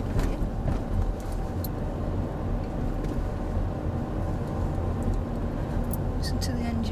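A car engine pulls uphill without a gear change, a steady low drone that holds close throughout, with people talking over it.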